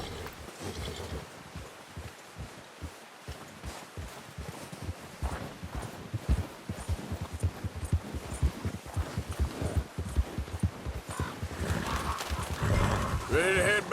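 A horse gallops in Red Dead Redemption 2, a steady run of rhythmic hoofbeats with rustling ground sounds, heard close throughout with voices at times.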